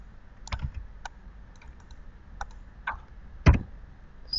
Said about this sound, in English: Just gonna type.